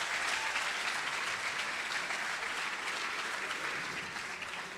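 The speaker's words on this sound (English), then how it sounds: "One more round of applause for Ryan and Jeff." Audience at an awards ceremony applauding in a steady, dense wash of clapping that holds for several seconds and eases slightly toward the end, with no clear talk over it.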